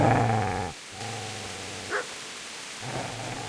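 Dog barking in the medieval video game Kingdom Come Deliverance, several loud barks with a harmonic, growling edge, a short pause, then more barking near the end, close and clear.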